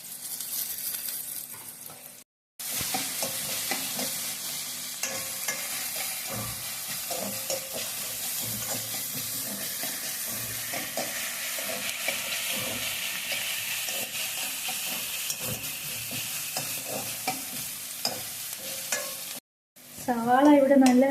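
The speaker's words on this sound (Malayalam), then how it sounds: "ബ്രൗൺ നിറമാകുന്ന വരെ ഒന്ന് വഴറ്റുക." Onions with curry leaves sauté in a pan for Kerala-style chicken perattu, a steady close sizzle with a stirring spoon scraping throughout, broken by two brief silent cuts near the start and end.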